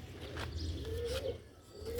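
A black-faced pigeon of a Sialkoti breed coos close by in soft, low, gliding calls over a faint background murmur.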